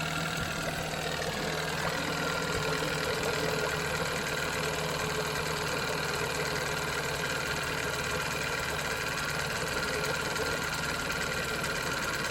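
A 1987 Johnson 9.9 outboard motor idles steadily after a single pull, a continuous close mechanical drone with a faint knocking pulse and no talk.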